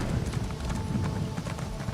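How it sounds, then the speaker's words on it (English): Horse hooves clip-clop steadily in The Elder Scrolls Online, a fast, even rhythm of loud, close hoofbeats over a busy game soundscape. "My horses are beauties."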